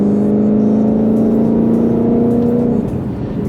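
A supercharged Ford Mustang Shelby GT500 engine and exhaust hold a loud, steady rev, a deep throaty drone with a rising tone and supercharger whine, which drops off near the end.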